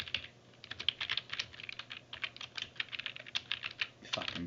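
Rapid, irregular clicking of keys on a computer keyboard, typed in quick bursts with brief pauses, close and fairly quiet with no talking.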